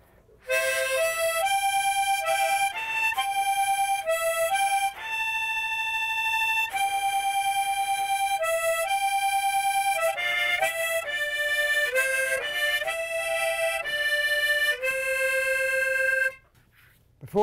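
Harmonica plays the tune of Michael Row the Boat Ashore alone, a clear melody of sustained, bright reedy notes with short breaths between phrases, close and steady in volume for about fifteen seconds before stopping.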